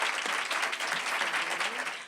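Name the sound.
audience applause for award honoree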